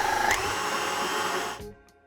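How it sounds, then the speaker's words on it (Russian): A food processor whipping sour cream of at least 20% fat, a continuous whirring motor hum running steadily before shutting off and winding down near the end. "Отправляем в чашу комбайна и взбиваем сметану."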